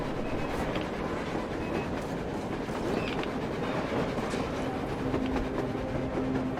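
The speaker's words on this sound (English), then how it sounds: "A train! A damn train on the surface!" A train passes on the surface in the video game Metro Exodus, a steady low roar and faint rhythmic clatter of wheels, continuous and fairly close, with no voices.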